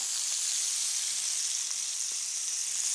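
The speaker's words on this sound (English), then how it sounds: "So I'm going to add the shallots to this pan." Shallots sizzle steadily in a pan holding browned bits left from cooked meat, a bright continuous frying hiss heard up close without voices.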